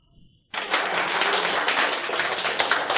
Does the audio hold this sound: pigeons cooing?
no